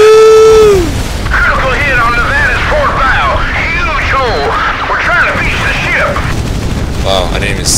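Explosion in the naval video game Battlestations: Pacific, a heavy boom opening into a sustained roar of blasts and gunfire, with voices shouting over the din throughout.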